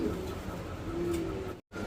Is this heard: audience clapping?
no